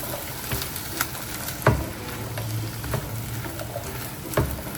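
Baby back ribs sautéing in butter in a pan give a steady moderate sizzle, with occasional sharp stirring clicks and scrapes against the pan, and nobody talking.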